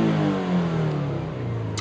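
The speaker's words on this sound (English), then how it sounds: "Now let's just really rev the guts out of it" A Toyota GT86 with its Subaru engine revs hard, a loud, close mechanical roar held high and then sliding gradually lower, with no one speaking.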